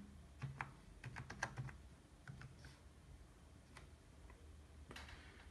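Password keys tapped on a Positivo notebook laptop keyboard, quiet close clicks in an irregular run of keystrokes with pauses, a few isolated taps later, over faint room hiss.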